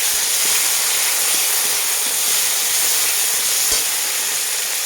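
Chopped tomatoes going into a pan of frying onions: a loud, continuous hissing sizzle fills the whole stretch, steady and close with only faint crackles.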